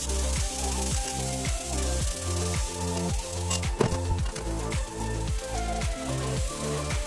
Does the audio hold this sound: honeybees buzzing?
no